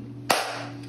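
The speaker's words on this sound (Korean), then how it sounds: "박수 소리였어 이거" A single sharp hand clap rings out close by in a small restaurant during an omakase meal, a quick crack that fades over a low steady background hum, with no talking.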